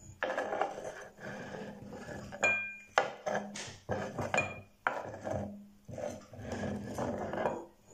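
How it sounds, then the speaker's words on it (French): Cut apples go into a saucepan to be cooked down for compote, with clattering knocks of fruit and metal, scraping and clinks in uneven bursts, fairly close, no talk. "Je vais les mettre dans la casserole et après je vais les mettre à cuire"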